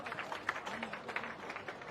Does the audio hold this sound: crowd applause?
yes